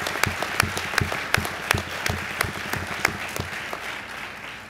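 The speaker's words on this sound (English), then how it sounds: "So please give her another round of applause." An audience at a hospital groundbreaking ceremony claps, a steady patter of many hands with a few louder individual claps standing out near the listener, with no talk over it.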